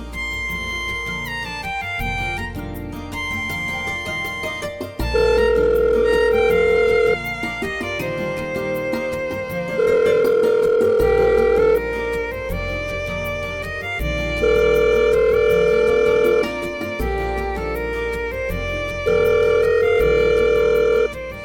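A telephone rings out in bursts of a tonal ring, roughly every four to five seconds, and goes unanswered; a call to a family member in a Marathi TV drama, with music underneath throughout.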